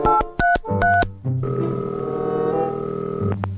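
Telephone keypad tones beep in a quick series of separate presses, then give way to a steady ringback tone while someone calls a younger sibling; no talking.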